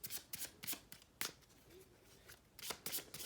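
A deck of cards being shuffled, with quick riffling bursts and flicks in irregular clusters, close and quiet.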